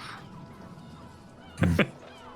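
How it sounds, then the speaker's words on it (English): A single loud seagull call bursts out over steady wind noise, a short honking squawk that stands alone and fades quickly. "Oh, seagulls."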